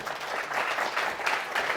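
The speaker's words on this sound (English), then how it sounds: "Give yourself a round of applause, will you?" Audience at a Gwinnett GOP monthly breakfast applauding, a steady wash of many hands clapping at moderate distance, continuous and even throughout.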